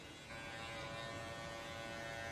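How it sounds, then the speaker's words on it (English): An electric hair trimmer buzzes steadily and faintly through a men's short haircut, a continuous close hum with no talking. "I'm just going to be working with the trimmer"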